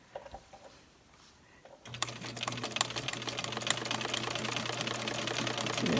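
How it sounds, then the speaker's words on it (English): A sewing machine starts up after a few soft handling taps, then runs in a steady rapid stitching rhythm as it sews a half-inch seam on a hat lining, growing slightly louder toward the end. "I'm going to put this back on the machine and sew it a 1/2 inch."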